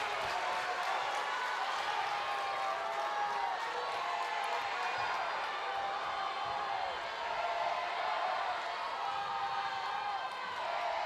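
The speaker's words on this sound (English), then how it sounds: "George Crowd never really got out of it, but they are making a lot of noise now" Steady roar of a large Georgia softball crowd cheering and shouting in Athens after a game-tying play, a dense wash of many voices sustained loudly throughout with scattered whoops.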